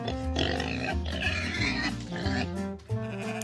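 Pigs oinking repeatedly at a farm, a close, steady run of grunts and squeals with other animal calls mixed in.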